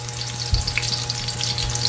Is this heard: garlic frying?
yes